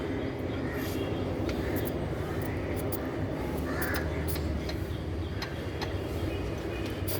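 Apache motorcycle exhaust with a loose, shaking pipe: a steady, close, rough drone with a fine rattling texture that continues unbroken for several seconds.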